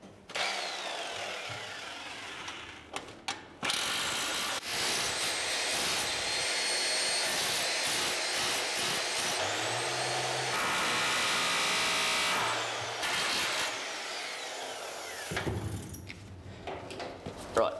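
A harsh, very loud grinding roar of an abrasive sander on a steel boat galley bulkhead runs almost continuously, with brief dips where it spins down and restarts.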